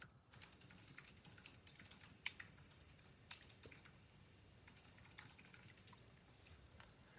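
Fast, irregular clatter of keys on a computer keyboard, quiet and close, continuing steadily for several seconds with no voices.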